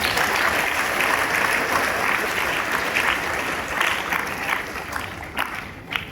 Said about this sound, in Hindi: उनके लिए ताली बजाते हैं